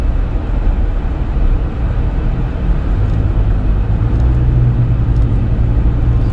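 Steady street traffic in Thailand, with a continuous low rumble of passing cars and mopeds close by and a broad wash of road noise, no voices.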